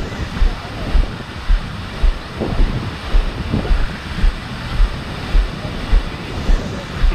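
Ocean surf at Garopaba beach in Brazil, a steady wash of breaking waves with wind buffeting the microphone, low thumps recurring roughly every second, close and moderately loud with no talking.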